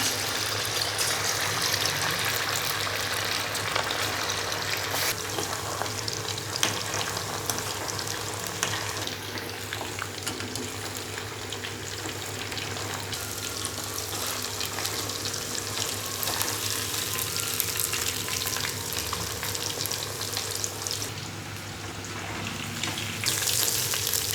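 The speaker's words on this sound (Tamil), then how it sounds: "இப்போ கட் பண்ணி வச்சுருக்கிற பீஸை ஆயிலில் போடுறோம்" Cut pieces of fish for chilli fish deep fry in hot oil, a loud dense crackling sizzle that stays steady and close throughout without pause. No talk.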